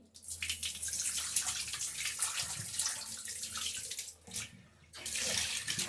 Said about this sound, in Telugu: మటన్ అయితే ఇట్లా మంచిగా వాష్ చేసుకోవాలండి, లేకపోతే వాసన వస్తుంది.